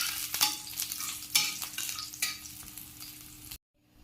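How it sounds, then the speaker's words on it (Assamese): Slit green chillies sizzling and frying in hot mustard oil, a steady crackling hiss with a few louder spatters and stirring scrapes, close and alone, cutting off abruptly near the end. "জলকীয়াখিনি ৰঙা হোৱালৈকে অলপমান ভাজি ল'ব।"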